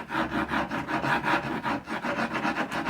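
A knife saws back and forth through a bagel in a steady rasping rhythm, close and fairly quiet, about a dozen strokes.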